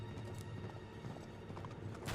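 Horse hooves clip-clop in a steady trotting rhythm in the video game Uncharted 3, moderately loud over a dense background of game ambience and music.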